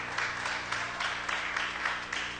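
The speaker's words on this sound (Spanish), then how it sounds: "denle un fuerte aplauso al Señor" A church congregation applauding, a dense and steady patter of many hands clapping with rhythmic swells, moderately loud and sustained without speech.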